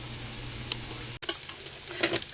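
Carrots cooking in a pan give a steady, close sizzle with a few light stirring clicks and a brief dropout partway through, and no voices.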